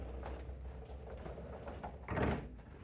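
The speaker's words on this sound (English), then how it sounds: "we're going to close our door" An automatic AutoSlide sliding door with motor gear grinding closes along its track, a low steady rumble of moderate loudness building to a brief louder thump near the end.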